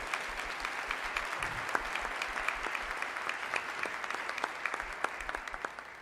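A church congregation claps steadily in a dense continuous burst, with sharper individual claps popping out above the broad wash and low rumbles beneath.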